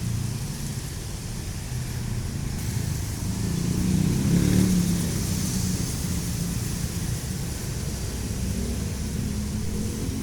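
Bus engine at a small roadside terminal agent, a low steady rumble that swells around the middle as the vehicle pulls away, then settles back to a constant drone.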